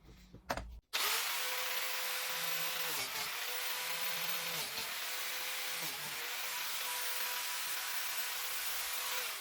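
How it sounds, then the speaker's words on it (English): A biscuit joiner cuts slots into wooden panel edges for a radiator cover, a loud steady high whine from the spinning blade that dips as each plunge bites into the wood, repeated several times after a brief clatter at the start. "Lock it down and cut the biscuit slots."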